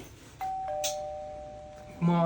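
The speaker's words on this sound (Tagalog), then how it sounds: "May nag-doorbell lang guys." An electronic doorbell chimes with a two-note tone that rings out and lingers, then a voice starts speaking at the end.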